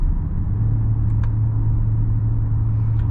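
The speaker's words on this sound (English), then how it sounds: "There's a good amount of road noise that is coming from the back tires" Steady low rumbling road and tire noise, mostly from the rear tires, fills the cabin of a moving 2022 Hyundai Santa Fe Plug-in Hybrid with a 6-speed automatic, a constant drone with a couple of faint ticks and no talking.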